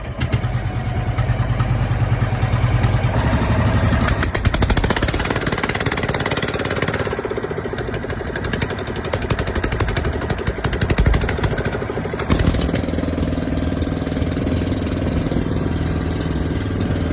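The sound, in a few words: boat engine running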